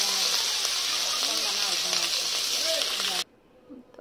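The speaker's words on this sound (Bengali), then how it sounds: "তো পাতার মধ্যে দিয়ে আর ভর্তা দিয়ে আটকে এভাবে ভেজে নিচ্ছে।" Dried-fish bhorta fritters wrapped in leaves sizzle steadily in hot oil, a loud, even frying hiss that cuts off abruptly near the end, with a voice talking underneath.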